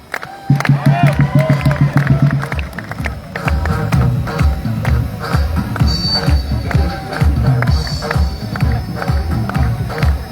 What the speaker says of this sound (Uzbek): Olqishlab qo'yamiz, g'oliblarimizga ruxsat beramiz